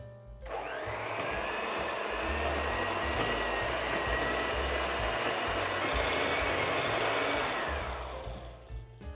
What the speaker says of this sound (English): now we're going to whisk this for a couple of minutes until it's nice and soft